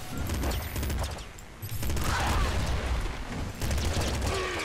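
Rapid gunfire from the top-down shooter video game Nuclear Throne, dense bursts of shots and booms layered with game music, loud and continuous across the whole stretch.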